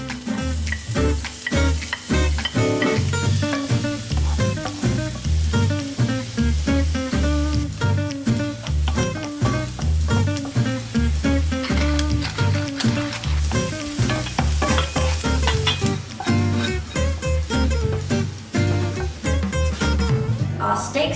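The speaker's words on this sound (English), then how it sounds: "saute the onions and mushrooms in the leftover juices and a bit of butter" Onions and mushrooms sautéing in leftover steak juices and butter, with a loud dense sizzle and steady crackle over a low rhythmic background that runs throughout.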